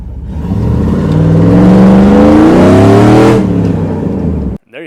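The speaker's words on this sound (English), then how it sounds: "So if there's a loud car, it's really only me. I'll do a little pull right here." Cammed single-cab Chevy Silverado with a 5.3 LM7 V8 revving hard during a pull, a loud rising engine roar with climbing tones that peaks, then drops off and cuts out abruptly near the end.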